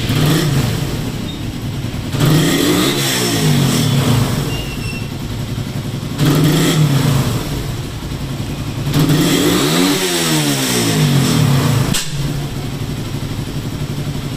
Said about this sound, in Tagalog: So motor niya is Raider 150 carb type preloaded.